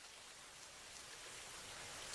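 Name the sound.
rain falling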